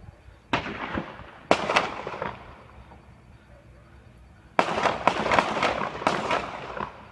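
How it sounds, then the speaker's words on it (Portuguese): Sharp bursts of distant gunfire between police and bank robbers, including machine-gun fire, crackle out in a couple of clusters, with a quieter stretch in between and another sustained burst at the end. "vendo a polícia trocar tiro com o bandido"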